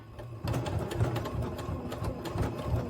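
A Janome sewing machine stitches a short run, its needle mechanism whirring in a quick, even chatter for about two and a half seconds after a brief pause, close and clear with no talking.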